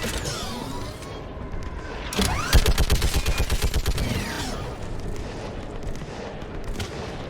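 A mounted gun fires in a sci-fi battle game, a rapid, steady burst of about a dozen loud, evenly spaced shots over a clanking mechanical backdrop, followed by fading rumble.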